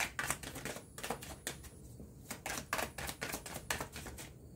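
Tarot cards being shuffled by hand in quick, irregular bursts of crisp riffling and tapping, close and fairly quiet, with brief pauses between the flurries and no talking.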